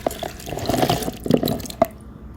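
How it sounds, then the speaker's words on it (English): Water drips and splashes into a pot as quinoa is rinsed under a tap, with small irregular trickles and taps close by, fading out near the end. "I'm gonna wash the quinoa now."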